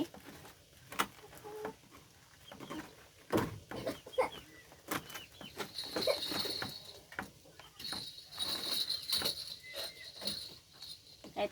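Chickens cluck on and off near a rural Thai home while a person talks intermittently, with a steady insect-like hiss rising in the background midway through.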